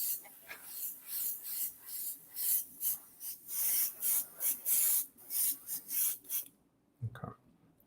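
An airbrush sprays paint in short weathering bursts, about a dozen hissing pulses of uneven length in a close, quiet room, ending with a brief knock.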